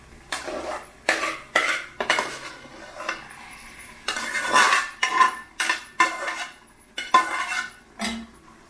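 Repeated scraping and clinking of a spoon against a metal pot as cooked rice is mixed into moong dal khichdi, in short irregular bursts of stirring with brief pauses between, close and fairly loud.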